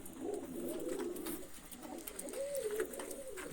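Pigeons coo softly in low, rolling calls, two phrases a second apart, against faint background noise.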